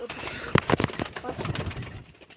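Pigeons, including low-legged tumbler-type breeds kept in a backyard loft, coo and flutter in a short burst of close calls and wing claps, with a voice murmuring underneath.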